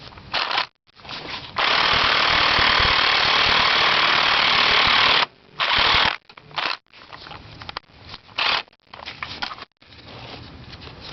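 Electric swivel wrench fitted with several adapters trying to loosen a Volvo 850 transmission torque arm bolt, giving a loud, steady whirring buzz that runs for several seconds and then breaks into short, choppy bursts separated by pauses.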